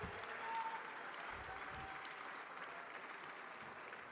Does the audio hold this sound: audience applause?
yes